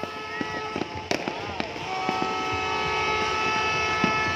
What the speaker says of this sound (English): Ang yaman nga yan, daming fireworks.